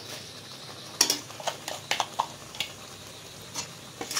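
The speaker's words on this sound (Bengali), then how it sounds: "এবার নারকেল কোড়াটা দিয়ে দেব।" A spoon stirring grated coconut into a pot for mango dudh puli pitha, a few soft scrapes and light clinks against the metal spread over a few seconds, close and fairly quiet.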